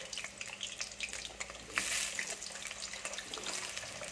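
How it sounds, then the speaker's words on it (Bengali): Potatoes drop into hot oil in a wok and start frying: a steady wet crackle and hiss near the pan, with a louder surge of sizzling about halfway through and no voices. "কড়াই তেল দিয়েছি, তেলটা গরম হয়ে গেছে। এর মধ্যে আমি আলুগুলো দিয়ে দিচ্ছি।"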